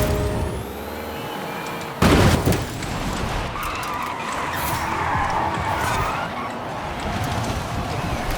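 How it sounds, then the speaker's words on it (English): A Porsche Taycan in Forza Horizon 5 braking hard: a whining electric drivetrain gives way to a sudden loud impact-like burst and then sustained tyre skidding and road rumble, close and continuous, with no talk. "Okay, so I tried testing the brakes then."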